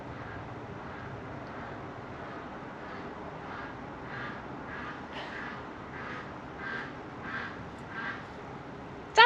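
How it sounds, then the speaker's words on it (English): Several ducks quack in a faint, scattered series over a steady outdoor background on a winter day, with calls growing a little more frequent toward the end. "You hear the ducks."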